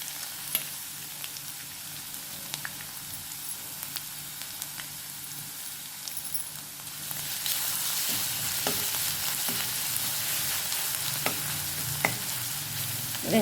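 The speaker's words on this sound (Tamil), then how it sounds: "கருவேப்பிலை, நசுக்கின பூண்டை போட்டுருவோம்." Curry leaves and crushed garlic go into hot oil with mustard seeds. A soft sizzle swells into a louder, fuller frying hiss with a few spoon clinks and pops.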